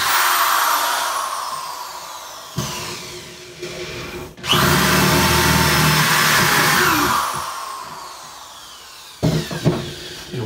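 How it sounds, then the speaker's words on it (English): A 3/8 inch power drill bores holes in wood for a barn owl nesting box, the motor whining loudly in long sustained bursts with brief pauses and a final short burst. "use a 3/8 inch drill and simply drill the holes out."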